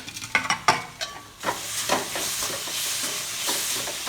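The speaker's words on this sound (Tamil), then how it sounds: "மிளகாய் போட்டு நல்லா வதக்கிக்கலாம். தக்காளியும் போட்டு நல்லா வதக்கிக்கலாம்." Chillies and tomatoes are sautéed in a pan, starting with a few sharp stirring scrapes and bursts of sizzle. These settle into a steady, close frying hiss.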